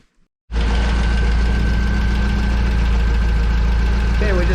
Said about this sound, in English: we're running the engine to see if we can get it to circulate around a little bit